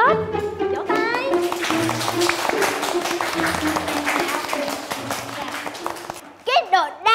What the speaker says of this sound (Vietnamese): Cả lớp vỗ tay.